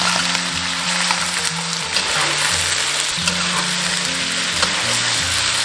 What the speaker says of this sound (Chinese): 锅中倒少许食用油，油热过后下入鸭肉